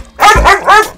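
A dog barks loudly and close by in a comedy film scene, giving two or three quick, rough barks in a burst that lasts about a second.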